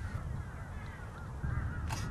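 Crows cawing faintly in the open while competing with cinereous vultures for food at a winter feeding ground, scattered calls over a low rumbling background, with a brief brighter burst near the end.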